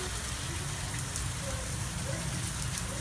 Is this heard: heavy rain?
yes